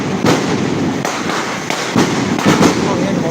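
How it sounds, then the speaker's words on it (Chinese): Fireworks going off at a temple procession, several sharp bursts and pops in quick succession over a dense, noisy crowd background. "来放烟"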